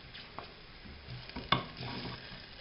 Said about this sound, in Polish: Smażymy już bardzo króciutko i dodajemy posiekane pieczarki.